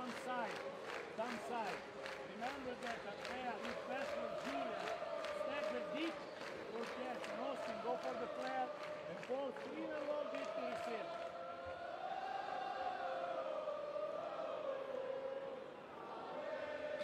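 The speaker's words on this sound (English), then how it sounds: "And PAOK fans always bringing their voice with them." PAOK basketball fans in an arena during a Basketball Champions League game against Umana Reyer Venezia, chanting together in a loud, rhythmic crowd roar that carries throughout, with a commentator talking over it.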